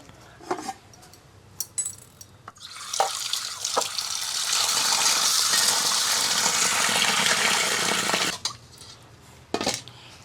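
Susni greens fresh from the field get a first rinse in water, with a sustained running, splashing wash lasting several seconds between brief clinks and handling noises at close range.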